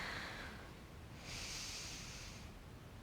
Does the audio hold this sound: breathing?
yes